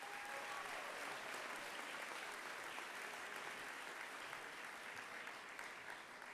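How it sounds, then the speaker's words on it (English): High school graduates at the Garrett Morgan School of Engineering & Innovation 2025 graduation ceremony applaud themselves, a broad, steady wash of clapping from a large crowd that sounds somewhat distant and quiet. "give yourselves a round of applause"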